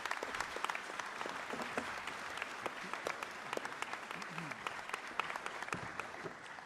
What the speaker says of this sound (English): Another round of applause for Dan.